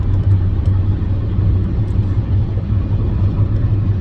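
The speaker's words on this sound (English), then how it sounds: "A car van just went past me." A van passes nearby on a main road, a steady loud low rumble of engine and tyres heard from inside a car.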